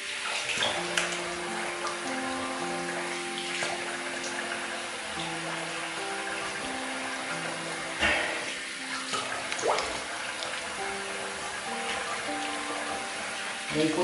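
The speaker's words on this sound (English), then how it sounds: "Okay, I'll rinse that off." A bathroom tap runs steadily as shaving lather is rinsed off a face or razor. The close water hiss carries on throughout, with a few splashes and handling clunks mixed in.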